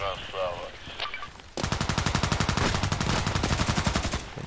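Gunfire in the shooter game Contract Wars: a few scattered shots under a voice at first, then a long, rapid, evenly spaced automatic burst, loud and close.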